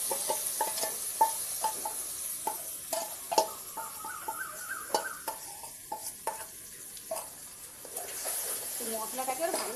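Onion and spice masala with ginger, garlic and ground chilli, cumin, coriander and turmeric sizzling in a pan, with scraping stir strokes and clinks through a soft steady fry, under a voice.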